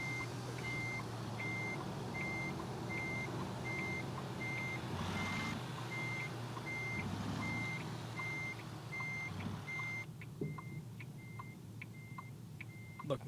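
A truck's reversing alarm in American Truck Simulator beeps in an even, steady rhythm throughout, repeating about every half second over a low engine drone, with no talk.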